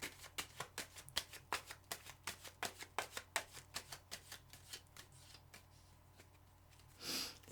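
Tarot cards of an Ancient Italian deck riffle-shuffled close up in a quiet room, a quick run of about twenty crisp flicks over five seconds, then a pause and a short rustle.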